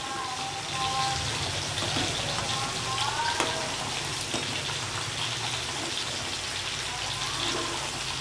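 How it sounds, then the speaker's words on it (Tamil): A pot of dried-fish curry with potato and mango bubbles and simmers, giving a dense, even hiss and patter of boiling liquid heard up close without pause, with faint voices underneath. "1 கொதி வரட்டும்."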